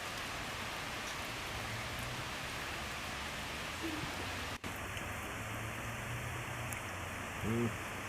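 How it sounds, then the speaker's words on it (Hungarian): Steady rain falls outdoors on grass where a deer grazes, a dense even hiss holding at constant strength throughout, with a faint low murmur of voices briefly beneath it. "Őzik az esőben."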